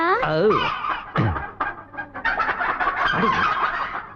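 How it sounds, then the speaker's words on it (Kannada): An egg-laying hen clucks loudly and agitatedly in a house, her squawks mixed with people talking and laughing close by. "ಒಳ್ಳೆ ಮೊಟ್ಟೆ ಕೋಳಿ ತಡ್ಕೊಳ್ಳಾರ್ದೆ ತಡಬಡಾಯಿಸ್ತಾ ಇದೆ"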